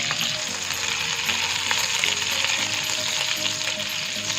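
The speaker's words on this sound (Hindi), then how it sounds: "अदरक लहसुन ऐड करके इसे हल्का सा गोल्डन फ्राई कर लें।" Ginger garlic paste fries in hot desi ghee and melted butter in a pan, giving a steady, loud, close sizzle with constant crackling for a quail karahi, with no voices.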